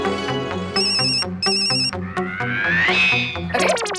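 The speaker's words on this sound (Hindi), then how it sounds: "ये लो, नाम लिया और उनका फोन आ गया।" A phone ringtone plays loudly and continuously, a bright melodic electronic tune with repeating tones and rising chirps, no voices, from the Hindi TV comedy Taarak Mehta Ka Ooltah Chashmah.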